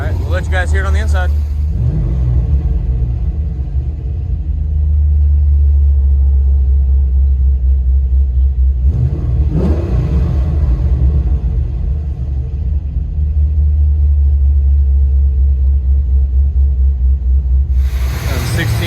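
Steady low engine rumble from inside a 2016 Chevy Caprice with a cammed 6.0L V8 and long tube headers, idling and swelling in brief revs, with a voice talking over it at the start and middle.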